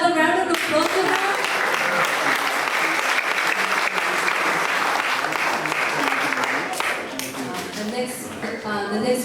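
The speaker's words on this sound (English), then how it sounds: "Can we please give another round of applause to her?" After a dance performance at a cultural event, a crowd gives sustained, steady applause that gradually thins, with a voice heard briefly at the start and end.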